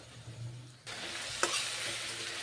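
Pointed gourd pieces fry with turmeric in a pan, a quiet sizzle that swells into a fuller, steady hiss partway through, with one sharp scrape of stirring close by.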